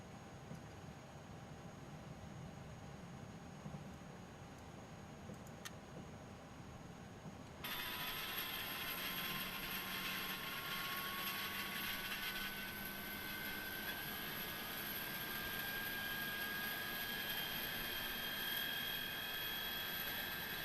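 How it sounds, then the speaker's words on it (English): Pratt & Whitney jet engine spooling up on an Airbus A300-600F freighter in Microsoft Flight Simulator 2020, a quiet low hum that jumps to a louder steady whine with rising tones after several seconds. "Get that Pratt & Whitney fired up."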